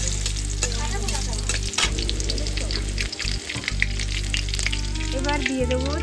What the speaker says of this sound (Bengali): সর্ষেটা দেখো পুড়ে গেছে, টকটক করে ফেটে গেল